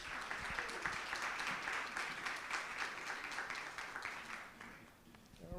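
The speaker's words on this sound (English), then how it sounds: "So how about a round of applause for our candidates?" An audience at a mayoral candidate forum applauds for the candidates, a dense continuous wash of clapping that holds strong for several seconds, then thins and fades toward the end.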